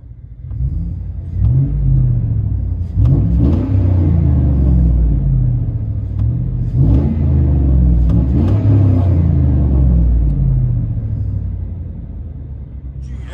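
A 2004 GMC Sierra's 4.8-liter V8 breathes through true dual exhaust with an X-pipe and 4-inch tips, rumbling loud and close as it revs several times and settles back, the deep exhaust tone swelling with each blip.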